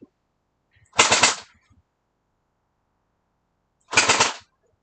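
A gel blaster toy gun fires two short bursts in burst mode, each a rapid sharp rattle of shots close by and loud, separated by a few seconds of silence.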